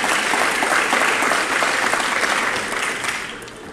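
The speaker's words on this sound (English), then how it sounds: "Okay, you can clap" A crowd claps for teachers at a high school top-20 honors ceremony: sustained, dense applause from many hands, steady and fairly loud, thinning slightly toward the end with no speech over it.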